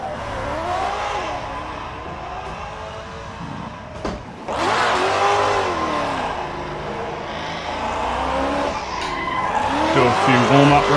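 Car drifting in Assetto Corsa online, engine revving with screeching tire squeal and skidding, loud and continuous, swelling after a brief dip midway.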